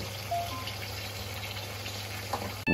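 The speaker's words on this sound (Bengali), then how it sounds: "মাংসটা ঠিক আমি এদের তেলের উপরে ভাজা ভাজা করব।" Chicken pieces frying in oil with ripe red tomatoes, giving a steady close sizzle throughout with a brief clatter at the end and no talking.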